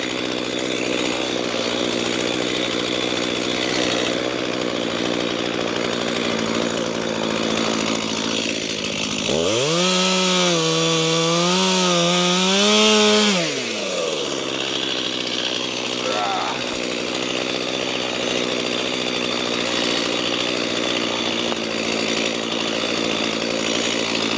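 A chainsaw cuts a rotten tree on a rainy day. The engine idles and rattles throughout, then revs hard into a loud, rising snarl for a few seconds before dropping back to idle, with a voice talking over it.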